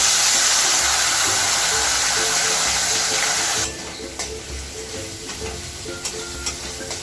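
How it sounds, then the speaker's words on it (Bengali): Onion paste frying in a pan over medium heat for an egg korma, a loud broadband sizzle that drops abruptly to a quieter, steady crackle partway through, with light clinks and stirring. "পেঁয়াজটা আমি একটু কষিয়ে নেব।"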